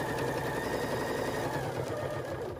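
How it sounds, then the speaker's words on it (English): A sewing machine hums steadily with a fast, continuous mechanical chatter as it top stitches around a fabric bag, running without pause throughout. "we are just going to top stitch all around our bag"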